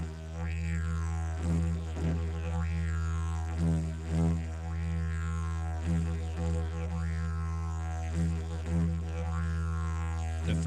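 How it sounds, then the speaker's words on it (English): A didgeridoo holds a deep, steady drone with bright overtones that sweep up and down in a repeating pattern of bent notes, played solo and close with no talking. "A good way to practice your bent notes on a didgeridoo is by playing a pattern which seems to be quite popular with non-traditional didgeridoo players."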